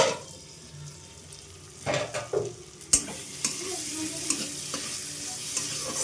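Potatoes being stirred and sautéed over low heat in a pan for a shrimp and potato curry, a soft steady sizzle under occasional scraping strokes of the spoon, close and fairly quiet, with no talking.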